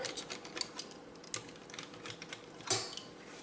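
A knife cutting dal dhokli dough into pieces, quick light taps and clicks on a board in an irregular rhythm, close and fairly quiet with no talking.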